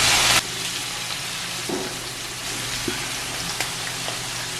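Okra (ladies finger) frying in hot oil in a pan, a steady close sizzle and hiss throughout with a louder burst at the start and a few small pops and stirring clinks.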